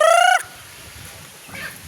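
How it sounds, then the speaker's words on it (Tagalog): A chicken lets out a short, loud squawking call with a loud opening burst, then fades to quiet farmyard background with a faint second cluck near the end. "Ayan na mga manok ko. Nagkalat na."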